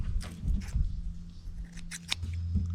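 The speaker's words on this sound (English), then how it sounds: "Hope I'm not hurting my scissors." Scissors snip through thin aluminum flashing during an RV rebuild, giving a handful of crisp metallic cuts spaced irregularly over a low background hum, close and moderately loud.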